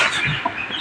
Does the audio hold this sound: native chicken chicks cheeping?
yes